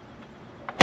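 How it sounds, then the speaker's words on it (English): The door of a 1979 Mercedes-Benz 300SD W116 shuts with a single solid, close thud after a quiet moment, preceded by a faint latch click. "Nothing like a door closing on a 116."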